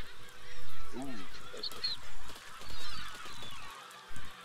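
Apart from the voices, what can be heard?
honking birds in the video game Besiege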